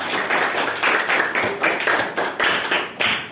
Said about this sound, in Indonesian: Tepuk tangan untuk Rumaisa